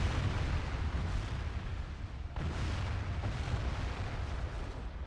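Artillery firing at towers during a siege battle in a Total War Divide and Conquer mod, a continuous low rumbling roar with one sharper boom midway, heavy and distant-sounding.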